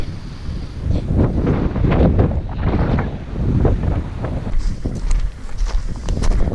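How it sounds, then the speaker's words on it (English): Steady wind roars and buffets across an outdoor fishing spot, with gusty swells and thumping bursts hitting close on the microphone for the whole stretch, no voices over it. "On this video, all you're gonna hear is wind."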